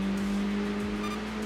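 Honda Integra Type R engine in the racing game Enthusia Professional Racing, holding a steady drone throughout with a strong low hum and no talk over it.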